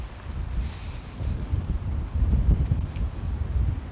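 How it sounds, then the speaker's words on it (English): Strong wind gusting by the water at high tide, heavy rumbling buffeting of the microphone that builds and surges, mixed with the wash of moving water. "I'll just show you how windy it is."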